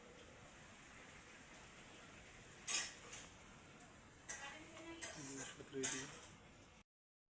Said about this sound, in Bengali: এই যে মা রান্না করছে।